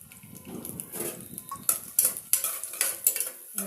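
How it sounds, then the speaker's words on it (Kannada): Chopped onions dropped into hot oil in a pan, with a soft sizzle under sharp clinks and scrapes of a utensil stirring against the metal, the knocks growing busier toward the end. "ಫಸ್ಟಿಗೆ ಎಣ್ಣೆ ಬಿಸಿ ಆಗೈತೆ, ಅದಕ್ಕೆ ನಾನು ಈರುಳ್ಳಿನ ಹಾಕ್ತಾಯಿದ್ದೀನಿ."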